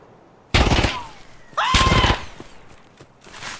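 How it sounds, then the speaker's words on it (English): Gunfire in Escape from Tarkov: two loud, close bursts of rapid shots about a second apart, each ringing off with an echoing tail, followed by quieter faint activity. "So there was that dude behind me, sneaking around, started shooting at me."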